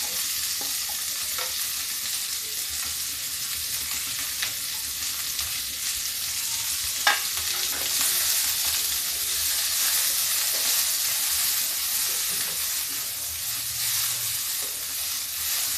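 Onions frying in hot oil for a tinda (round gourd) curry, a steady hiss and sizzle with occasional scraping stir strokes, moderately loud and continuous with no talking.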